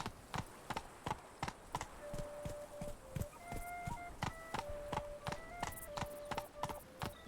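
Horse hooves clip-clop at a steady walking pace in the video game Witcher 3, an even run of near, distinct hoofbeats over faint tonal background music.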